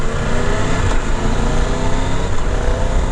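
A 2023 Triumph Tiger 1200 Rally Explorer motorcycle accelerates hard with quick-shifter gear changes, a loud, steady engine roar with wind noise and brief dips at the shifts.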